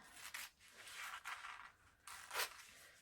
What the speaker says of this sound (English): you can also kind of just run your scissors along it, which also makes for quick cutting